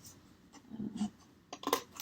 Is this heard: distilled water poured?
no